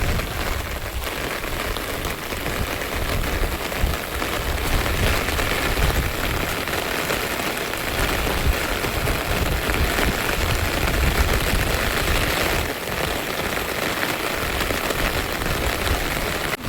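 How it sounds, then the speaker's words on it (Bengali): Torrential, heavy rain pours down outdoors near flooded grassy ground where fishing begins before dawn, a dense, steady roar of drops hammering surfaces that stays loud and unbroken throughout with no voices. "বৃষ্টির তোড় এতটাই যে এখানে দাঁড়ানো যাচ্ছে না"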